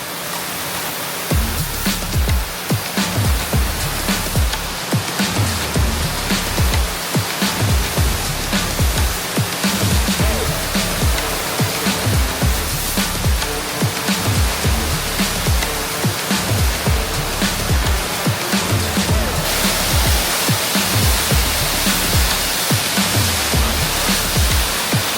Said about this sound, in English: All I gotta do is turn that pressure washer on. I think we're gonna start by soaking the entire room